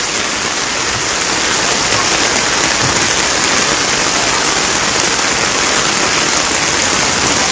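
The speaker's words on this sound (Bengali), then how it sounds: "আরও এমন বৃষ্টিটা যদি জারি থাকে" Heavy rain falls at the swollen, flooded Muhuri river seen from the Bonkor bridge, a dense, loud, unbroken roar of drops that continues evenly throughout with no voices over it.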